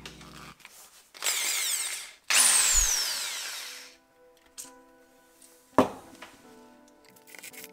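A power drill with a small bit whirs in two short bursts, drilling out a stuck spark plug, the second burst winding down in pitch, followed by a sharp knock and quiet tool handling.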